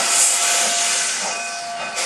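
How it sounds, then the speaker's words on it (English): A steam locomotive blasts exhaust steam up through its smokestack, a loud, steady, close hiss that fills the whole clip with no break and no voices. "the piston's made a stroke and is exhausting the steam up through it exhausts up through the smokestack"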